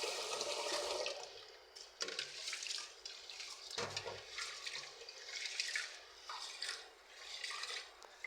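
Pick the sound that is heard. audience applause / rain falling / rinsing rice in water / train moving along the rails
rinsing rice in water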